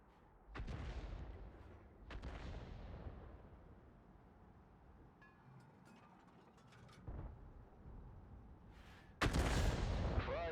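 Lorraine 155 mle.51 tank destroyer firing its gun in World of Tanks on the El Halluf map, with several loud booming shots spaced a few seconds apart, each trailing off into a rumbling decay, and no talk.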